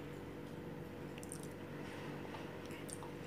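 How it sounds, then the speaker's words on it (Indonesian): Someone eating boiled sweet potato with soft, quiet, moist chewing and squishing close to the ear, faint against a low background hum. "aduh ini makan ubi agak seret ya, mesti di sambil minum"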